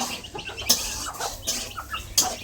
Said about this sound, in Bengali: এই দেখো ওদের মুরগি বের হয়ে গিয়েছে সবগুলো